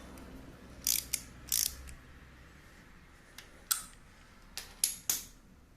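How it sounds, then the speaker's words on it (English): Ratchet tightening a 13mm bolt on the timing belt of a Ford Ranger 2.3 or 2.5 engine, heard as several short bursts of quick metallic clicking with quiet pauses between, close up and without speech. "all you got to do is tighten up this 13mm bolt"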